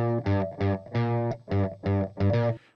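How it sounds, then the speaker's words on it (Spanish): An electric guitar run through Guitar Rig distortion plays six chunky, heavily overdriven chords in a choppy, rhythmic pattern, loud and close with no voices. "La otra guitarra pues suena así también"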